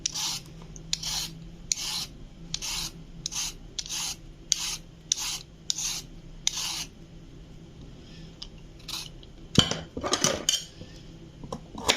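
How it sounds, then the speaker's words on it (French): Carrot being peeled with a hand peeler for a composed salad, a run of about a dozen rhythmic scraping strokes close by, then a pause and a few louder clattering scrapes near the end, with no talk. "Maintenant, la carotte. Voilà, on l'épluche."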